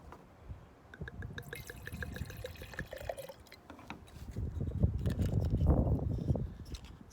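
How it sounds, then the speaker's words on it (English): Wine poured into a glass for tasting: a soft liquid trickle and splash builds from light drips to a fuller pour, close and fairly quiet, with no talk. "So I'm going to pour a little so we can do a little virtual tasting here."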